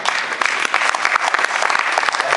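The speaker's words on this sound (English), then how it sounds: "A big applause for them." A room of people at a press conference in Slovenia applauds the volunteers, giving a loud, dense burst of clapping from many hands that carries on steadily.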